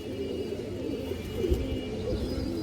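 Pigeons cooing softly in a loft, low throaty burbling calls repeating under a faint background hum.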